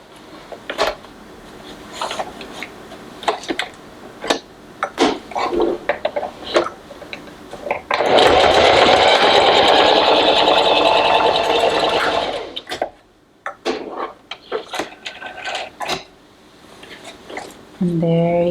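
A sewing machine runs in a steady, loud burst of stitching through thick stacked layers of wear-label fabric, set between clicks and handling noises, with a voice talking nearby.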